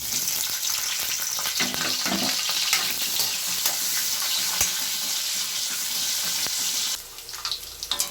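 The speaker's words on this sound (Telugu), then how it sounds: "ముందుగా కడిగిన ఎండు మెత్తలను అయితే ఇప్పుడు ఇందులో దోరగా వేయించుకుందాం." Washed dried fish fry steadily in hot oil in a kadai with a continuous broad sizzle, loud and close, easing off in the last second with a few soft clinks.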